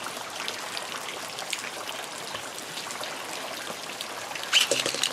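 Rain falling outdoors on a rainy day: a steady, even patter of drops with a dense hiss throughout, and a brief louder splash near the end.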